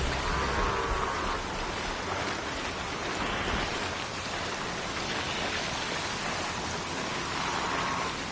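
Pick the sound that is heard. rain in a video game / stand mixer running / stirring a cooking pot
rain in a video game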